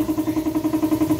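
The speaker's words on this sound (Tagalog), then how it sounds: "ganun kaingay yung makina ni bossing" A worn, noisy motorcycle engine, run dry and very loose, idles close up with a steady, rapid, rhythmic knocking pulse and no voices.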